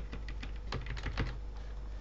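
Keys are tapped on a computer keyboard during subtitle editing, a few quick, light presses close by over a steady background hiss.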